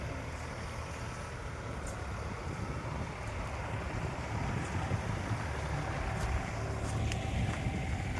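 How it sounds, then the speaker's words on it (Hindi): Continuous low rumble of a tractor ploughing a farm field, heard from a distance under gusting wind noise that grows slightly louder over time. "अब देखो, ऐसे ट्रैक्टर से जो खेत तैयार करने का काम चल रहा है अपने खेत में।"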